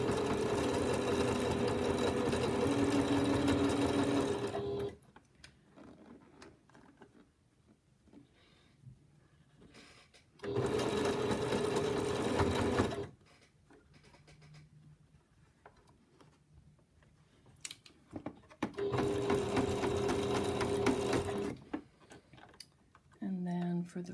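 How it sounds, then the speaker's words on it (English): A sewing machine stitches binding onto a potholder in three steady bursts of a few seconds each, separated by quieter pauses with faint handling and talking. "I'm going to back tack a couple stitches and then sew"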